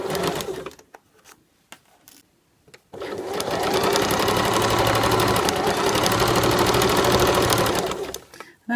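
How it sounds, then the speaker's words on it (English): A sewing machine stitches a facing seam on fabric, with a few short bursts at first, then a long, loud, steady whirring run of rapid needle strokes that stops near the end. "then just do a few stitches forwards and back to secure, and then stitch along"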